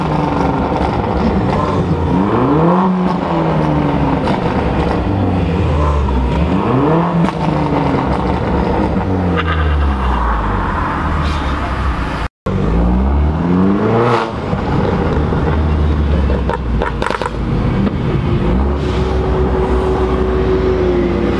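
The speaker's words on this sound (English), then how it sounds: "Rev it, we might get some rev." Modified cars leaving a car meet, engines revving loudly and repeatedly with rising and falling pitch sweeps as vehicles accelerate past nearby, a dense continuous roar with a brief cut midway.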